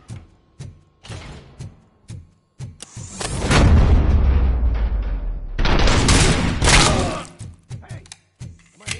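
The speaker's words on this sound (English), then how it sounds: "Hey, am I hearing gunshots?" Gunfire and booming blasts in the RoboCop video game: scattered sharp shots at first, then a long, loud, dense volley of fire and explosions that swells twice before breaking back into separate bangs.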